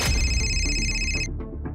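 A telephone rings with a steady electronic tone, loud and continuous for over a second before cutting off abruptly, leaving a low background rumble.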